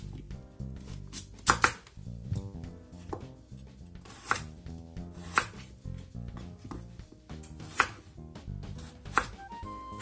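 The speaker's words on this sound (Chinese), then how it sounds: "切成滚刀块" A knife chops daikon radish into roll-cut chunks on a board, a series of irregular, sharp, close knocks spaced a second or so apart, with quieter scraping between them.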